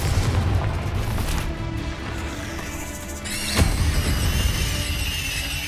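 The Confringo spell in Hogwarts Legacy goes off as a loud booming explosion with a sharp burst partway through, over dense rumbling game noise and a ringing tonal sweep afterward.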